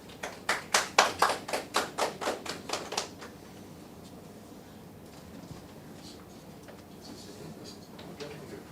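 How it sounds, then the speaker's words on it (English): Scattered claps from a small press conference audience, with about a dozen loud, evenly spaced hand claps over the first three seconds before the room falls to low murmur and faint rustle. "Give him a round of applause again"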